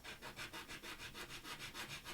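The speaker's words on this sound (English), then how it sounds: "So I'm going to sand this just a little more, probably another millimeter or two off of it." A toy figure part for a Good Guy doll mod is sanded by hand in about nine steady back-and-forth rasping strokes, close and fairly quiet, with no voices.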